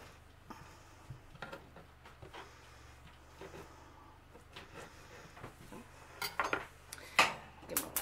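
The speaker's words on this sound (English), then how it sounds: "Get my pot on." Cookware clatter in a kitchen as a pot is set out for potato soup, scattered clinks and knocks of metal, growing louder and sharper toward the end with a couple of prominent clanks.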